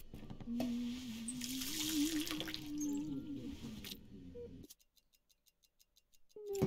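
A kitchen sink tap runs for about four seconds in the video game 12 Minutes, a steady close gush of water that cuts off and leaves a faint, regular ticking.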